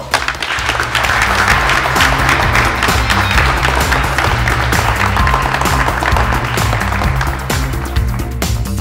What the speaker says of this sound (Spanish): Así que yo quiero darle un aplauso a ustedes.